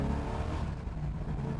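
A 1978 Pontiac Trans Am WS6 launches hard from a stop, its engine roaring up in a loud, close, rising rev that then rushes away in a steady surge.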